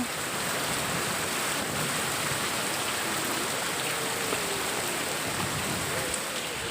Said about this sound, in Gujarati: વરસાદ પણ એમ પડી રહ્યો છે